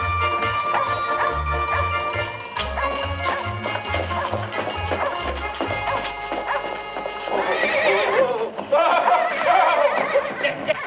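A horse neighs and whinnies in a classic drama film, close and prominent, with hooves clip-clopping, a dog barking briefly, and background music beneath.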